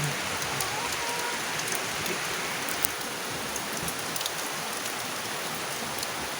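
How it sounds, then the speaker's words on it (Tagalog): Steady heavy rain pours down in a dense, even hiss, with occasional sharper drops spattering nearby. "Ang lakas ng ulan."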